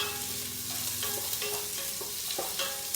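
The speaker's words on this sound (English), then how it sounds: "I'm gonna go ahead and put all the onions. Give it a good stir." Onions fry in a large pressure cooker while being stirred, a moderate sizzle under a few scrapes and knocks of the spoon against the metal, with no voice.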